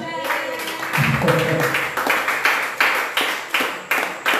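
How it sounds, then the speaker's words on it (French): A church congregation claps together in a steady, rhythmic beat of loud, evenly spaced claps, with some voices mixed in. "Acclamez pour vous-même"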